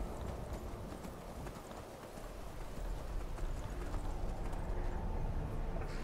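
Horse hooves clip-clopping as a rider travels on horseback in the video game Skyrim, a steady, continuous rhythm of hoofbeats that grows slightly louder partway through, with no talking.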